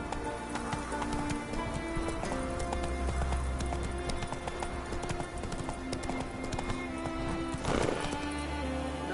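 Roach, the horse in a video game, clip-clops steadily at a gallop through rain with game music underneath, and a loud whinny breaks out near the end.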